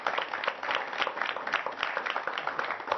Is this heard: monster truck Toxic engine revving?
no